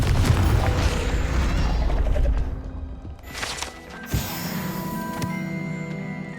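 A Confringo blasting spell going off in Hogwarts Legacy, a loud rumbling burst followed by a sharp crack and a ringing magical tail, with game ambience underneath.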